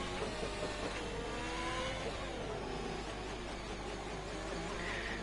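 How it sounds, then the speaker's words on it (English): Ferrari race car engine revving in a racing video game under a safety car period, a loud continuous mid-pitched engine drone with shifting tones and no voices. "he is revving that car"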